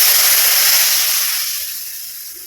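Tamarind water poured into a hot pan of tilapia fish curry over a wood-fired stove, giving a loud, steady broadband sizzle and hiss that slowly fades as it settles.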